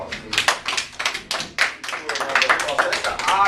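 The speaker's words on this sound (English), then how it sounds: "Give Kilora a round of applause." A classroom of pupils claps for a student who answered correctly, with quick uneven bursts of clapping over several seconds, mixed with children's voices.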